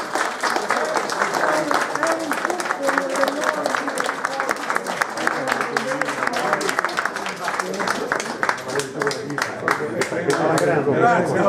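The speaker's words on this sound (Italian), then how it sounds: "questo applauso" Sustained applause from a crowd greeting a guest's arrival at a restaurant award ceremony, dense steady clapping filling the room throughout, with voices mixed in.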